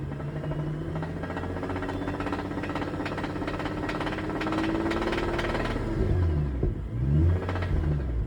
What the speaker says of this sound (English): Like a very characteristic metallic knock from the engine bay